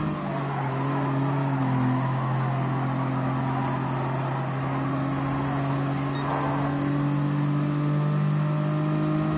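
Engine of a race car in a racing video game whines steadily at high revs, its sustained tones shifting slightly in pitch as it drives on, loud and continuous with a brief tire-squeal-like blip midway.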